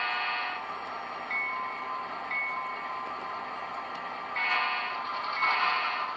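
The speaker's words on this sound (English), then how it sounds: "Man, I love those sound decoders." Sound decoder in a Spectrum/Bachmann Dash-8 model diesel plays its running engine, a continuous buzzy drone from a small speaker with short tonal notes on top and a louder surge near the end, with no voices.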